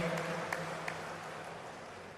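Steady applause from an audience greeting the Home Minister at a Brahma Kumaris silver jubilee event, a soft, even wash of many hands heard from a distance with a few sharper claps standing out.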